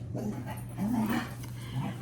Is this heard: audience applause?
no